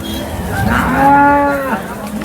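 A dairy cow at a cattle market lets out one loud, drawn-out moo close by, rising and then falling away over about two seconds.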